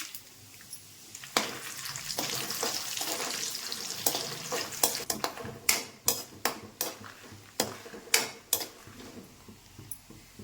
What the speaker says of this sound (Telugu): నూనె వేడైంది ఎండుమిరపకాయలు ఒక స్పూన్ జీలకర్ర కూడా వేస్తాను